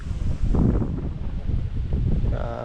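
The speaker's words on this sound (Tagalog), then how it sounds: "nabuhay na naman ang hangin" Gusty wind on a foggy mountain view deck buffets the microphone in a steady low rumble, with rustling texture rising and falling throughout, no voices.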